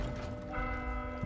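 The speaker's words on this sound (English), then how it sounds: "I'm gonna ring the bell." Bell rung inside the video game Vermintide 2, a steady sustained tone with a clear metallic ring that swells midway over a layer of mechanical game noise, close and loud.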